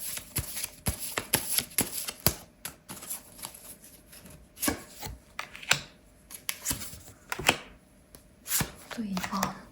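Tarot cards being shuffled and handled, a run of crisp, irregular riffling and slapping bursts close by, with short pauses between them.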